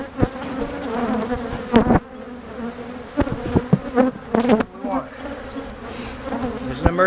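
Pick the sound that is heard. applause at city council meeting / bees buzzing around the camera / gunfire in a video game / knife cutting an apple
bees buzzing around the camera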